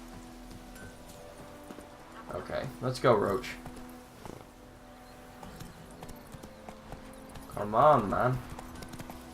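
Hooves of the horse in The Witcher: Wild Hunt on PS4 clip-clop in two short bursts through a ransacked village, near and clear, with someone talking over them.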